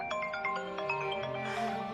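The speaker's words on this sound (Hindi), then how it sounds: "सलमान भाई का फोन आ रहा है" A phone rings with an incoming call, a quiet tonal ringtone melody of repeated chiming notes playing steadily indoors for about two seconds.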